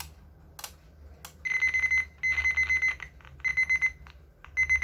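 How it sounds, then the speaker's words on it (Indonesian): A wristwatch's ordinary alarm beeps in repeated bursts of rapid high electronic tones, separated by short pauses, loud and close with nothing else heard. "alarm biasa."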